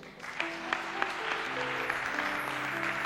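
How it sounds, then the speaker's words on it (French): A church congregation applauding and acclaiming Jesus at a prayer and teaching gathering: a steady wash of clapping and crowd voices, loud and close, with a few sharper claps standing out and no speech over it. "On peut acclamer Jésus."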